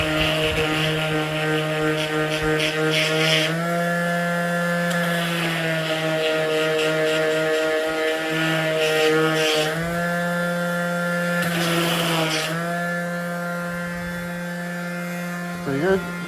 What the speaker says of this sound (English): So right here I gotta sand a little bit.